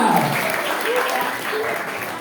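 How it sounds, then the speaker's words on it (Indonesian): A crowd gives a standing ovation for the third-place winner at a Balinese language month event in Desa Apuan, steady dense clapping filling the room with murmured voices underneath. "Tepuk tangan berdiri untuk juara 3."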